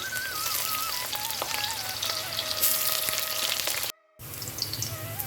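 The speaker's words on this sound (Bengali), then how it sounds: "এবার আমি উচ্ছে কাটা ভেজে নেব" Cut bitter gourd pieces frying in hot oil in a pan, a steady dense sizzle with crackling pops throughout, close and loud, briefly cutting out near the end.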